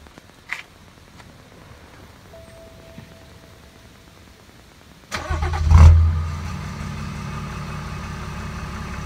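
A BMW M5 converted to run on diesel cranks and starts after several seconds of near silence, with a loud rising roar that settles into a steady close idle.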